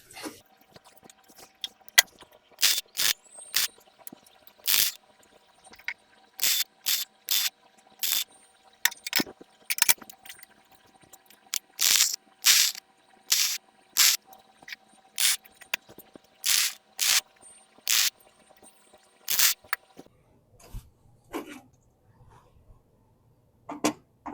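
A clamped steel engine run stand is welded in a workshop: a long run of short, sharp crackling bursts, some quick and clustered, others spaced, close and fairly loud, with quiet gaps between.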